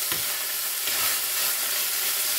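Minced beef sizzling and frying in a pan while being prepared for spaghetti bolognese, a steady, close, broadband hiss with a couple of soft stirring scrapes early on, no voices.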